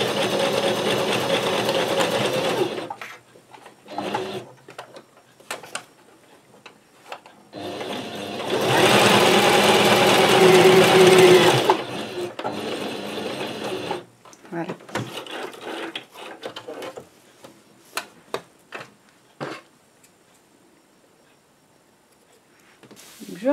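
A home sewing machine stitches a beginner's tote bag in several bursts of rapid mechanical whirring. The longest run lasts about four seconds and is followed by short reverse stitches, with fabric handling and small clicks between the runs.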